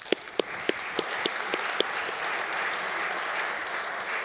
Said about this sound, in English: I think that's a warm applause for you